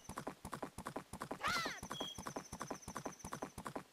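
Rapid clip-clop of hooves trotting steadily, with a brief horse whinny in the middle, from The Legend of Zelda: Majora's Mask; game-like, close and clear.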